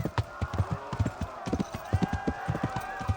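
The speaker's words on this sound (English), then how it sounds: "Now we got a horse." Horse hooves clip-clopping in Kingdom Come Deliverance, a steady run of close, loud hoofbeats in quick rhythm over a tonal background bed, with faint voice-like sound mixed in.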